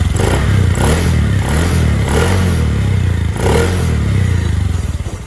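A Honda Scoopy scooter engine runs steadily at close range for a sound check, a loud continuous idle with a low rhythmic throb and some mechanical clatter, slightly rising and falling over about five seconds with no voices.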